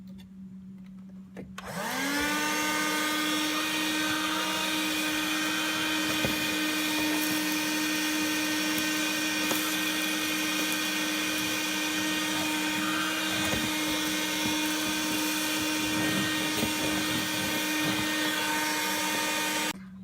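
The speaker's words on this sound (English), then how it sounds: "I'm going to turn on the vacuum and then just let it sit there as I put the hose down into this little crevice" An InnoLife 4-in-1 car vacuum with an extended nozzle switches on after a brief quiet moment, then holds a loud, steady, high motor whine close by while cleaning dirt from a car crevice.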